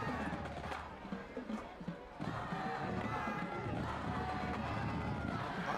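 Crowd at a high school football game, Irving vs Nimitz, making a broad, continuous murmur and rumble from the stands with brief swells, while voices talk over it.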